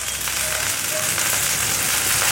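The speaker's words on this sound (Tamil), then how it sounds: "அப்போ நம்ம ரவையை போட்டு கலருவோம்." Water coming to a rolling boil in a pan for rava kesari, a steady loud bubbling, sizzling hiss with faint scraping of stirring, continuous and close with no voices.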